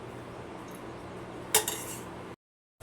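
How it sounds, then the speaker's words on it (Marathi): A spoon clinks against a small tempering pan as oil is added, one sharp metallic clink followed by a couple of lighter taps over a low kitchen hum. "फोडणीच्या भांड्यात मी दोन चमचे तेल घालते फोडणीसाठी"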